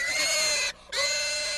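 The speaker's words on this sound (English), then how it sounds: "the pig squeals" A pig being sacrificed at the Ifugao Patipat festival lets out a loud, sustained piercing squeal, broken briefly by a short pause before it resumes just as shrill.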